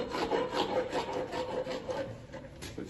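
Steady back-and-forth rasping, a dental rasp filing a pony's teeth in continuous strokes, close and fairly loud with no talking.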